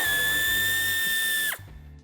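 A power tool whirs steadily while backing a screw out of the front bumper of a 2018 BMW 6 Series GT (G32), close and loud, then stops abruptly near the end, leaving quiet room sound.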